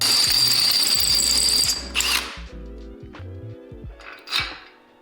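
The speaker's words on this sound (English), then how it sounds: "Take the 1/2 inch bit, run it through, and we'll be all right." A power drill spins a 1/2 inch bit through a spindle hole during a car angle kit install: a short loud whirring burst, then quieter clicks and mechanical rattling, with no talking.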